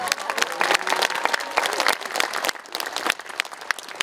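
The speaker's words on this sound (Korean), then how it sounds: "다시 한번 큰 박수를 부탁드리겠습니다" Enthusiastic applause from a large concert audience, dense clapping with some crowd voices, loud and sustained before tapering slightly.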